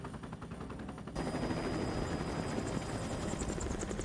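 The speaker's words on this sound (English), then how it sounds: "So now we're just going to grab this helicopter." Helicopter in The Incredibles GameCube game, a dense rotor chop that jumps louder after about a second and then holds steady with rapid pulsing, alongside rattling bursts that resemble gunfire.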